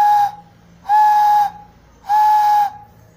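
A small handmade ceramic clay whistle gives three sustained, loud, pure whistle tones of about half a second each, evenly spaced with short silent gaps between them, heard alone.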